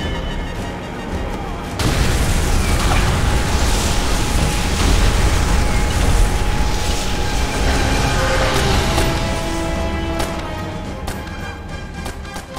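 Demolition charges exploding in Call of Duty: World at War, a sudden loud blast giving way to a sustained heavy roar and rumble of debris and fire that slowly tapers off.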